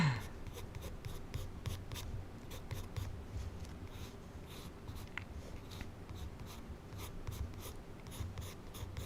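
Pencil scratching across paper during a drawing session, a steady soft rasp of strokes running continuously and close, with no talking.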